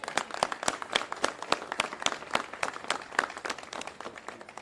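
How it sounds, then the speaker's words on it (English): An audience at a Florida hurricane-preparedness press conference breaks into applause: a moderate patter of many hands clapping, fairly even and a little distant, carrying on for several seconds. "Give a round of applause to this guy."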